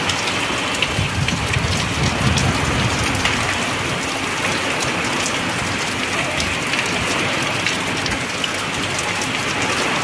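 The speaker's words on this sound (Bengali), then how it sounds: "আর ক্রমশ বৃষ্টি হচ্ছে।" Heavy rain pours during a storm, a loud and continuous roar of drops beating on surfaces with no pause, and no one speaking over it.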